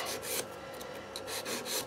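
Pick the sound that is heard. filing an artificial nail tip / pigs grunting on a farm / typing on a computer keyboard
filing an artificial nail tip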